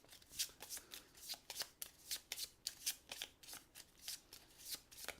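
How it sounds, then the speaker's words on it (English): Unsleeved Lords of Ragnarok playing cards being shuffled at close range, a rapid run of crisp riffling bursts repeating steadily and fairly quietly throughout, with no talk. "We're going to shuffle these."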